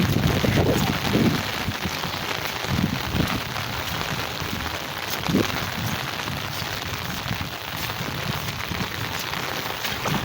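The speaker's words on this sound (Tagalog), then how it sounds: "gaulan pa guys oh. Walang tigil to guys hanggang gabi." Heavy typhoon rain pours steadily beside a river, a dense continuous hiss of drops striking surfaces with a few louder bursts, close and unbroken throughout.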